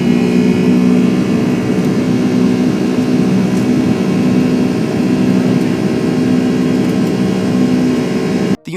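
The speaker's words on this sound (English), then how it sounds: "The United Airlines Boeing 757 had to go around because it exceeded minimum separation while landing parallel to a Cathay Pacific Boeing 747 at San Francisco International Airport" A United Airlines Boeing 757 jet going around at San Francisco International Airport, a steady loud engine roar with a pulsing low drone, sustained throughout before cutting off abruptly at the end.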